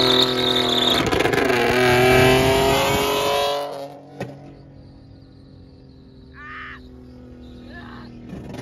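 A 7th gen Nissan Maxima race car with wrapped headers revs loudly up close for about three and a half seconds, then drops to a lower idle with a few short sharp pops.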